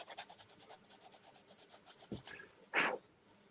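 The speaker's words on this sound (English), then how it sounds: "And I'm using a Great Plains sanding block." A Great Plains sanding block rubs back and forth across wood in rapid, rhythmic rasping strokes at close range, followed by a short knock and a louder scrape near the end.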